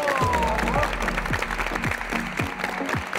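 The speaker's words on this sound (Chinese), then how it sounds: "掌声送给你们自己吧。" A studio audience at a televised youth talent contest claps steadily as newly formed teams assemble. The applause is a dense, continuous wash throughout, with a voice briefly sounding over it.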